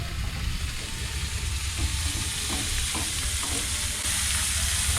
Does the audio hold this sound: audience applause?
no